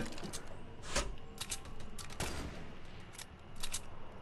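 Fortnite Battle Royale gunfire: scattered sharp shots and short bursts, some louder and some more distant, spread across a busy game soundscape with no talking.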